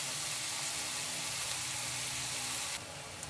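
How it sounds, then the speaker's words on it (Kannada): Onions frying in oil until golden brown in a pan, the start of a dry chicken pepper fry: a steady, loud, close sizzle and crackle that thins out near the end. "ಎಲ್ಲ ಗೋಲ್ಡನ್ ಬ್ರೌನ್ ಆಗಲಿ ಅಲ್ಲಿವರೆಗೂ ಎಣ್ಣೆಯಲ್ಲೇ ಫ್ರೈ ಮಾಡ್ಕೊಳ್ಳಿ"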